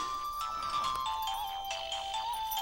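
A mobile phone rings with a steady electronic melody that plays alone and fairly loud for a few seconds.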